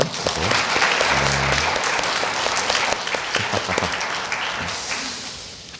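A church congregation at a Christmas Day children's Mass claps together in warm, sustained applause filling the space, with a few brief voices and laughter mixed in.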